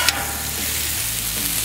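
Colourful vegetables charring on a flat-top griddle give a loud, close, continuous sizzle with a brief scrape at the start, steady and uninterrupted, no voices.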